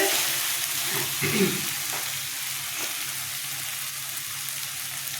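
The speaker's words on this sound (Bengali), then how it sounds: "পেঁয়াজটা কষানো হয়ে গেছে।" Onions with ginger and green chilli paste sizzle and fry in a pan for a curry, a steady close crackle with a few stirring scrapes near the start, no talking.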